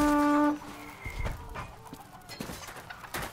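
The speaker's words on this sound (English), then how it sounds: "It is just clucking." A flaming chicken clucking in the medieval combat game Chivalry 2, short bird-like clucks scattered among battle noise after a brief tonal sound at the start.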